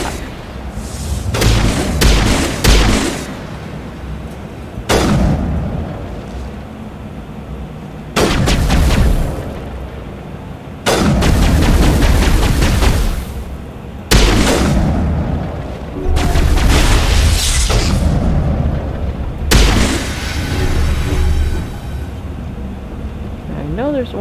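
Gunfire and heavy booms in the video game Mass Effect Legendary Edition on Noveria: loud, repeated blasts and sustained bursts over a constant rumbling backdrop, recurring every few seconds throughout.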